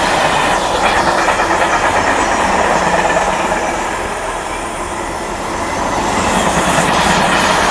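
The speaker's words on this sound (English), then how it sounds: "that train is carrying cars" A freight train loaded with cars rolls past close by, loud steady rumble and rattling wagons with rhythmic clatter, dipping slightly midway before swelling again.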